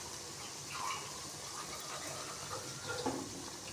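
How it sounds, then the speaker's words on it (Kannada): One to one and a half glasses of water pour into a cooking pot, a faint, continuous splashing gush with small bubbling swells, quiet and close. "ಇವಾಗ ಇದಕ್ಕೆ 1 ಲೋಟ ನೀರು ಸೇರಿಸ್ತೀನಿ."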